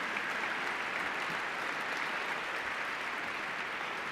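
A middle school science and math team champion gets a sustained round of applause from an awards ceremony audience, a dense, even clapping that holds steady from start to finish.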